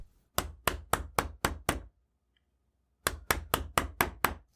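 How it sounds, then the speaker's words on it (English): Sharp mallet strikes on a chisel cut a slot into the tang area of a wooden military rifle buttstock. Six evenly spaced, crisp raps come first, then a pause, then another run of six, all close and loud. "I can chisel to the edges of the slot cutout in the tang."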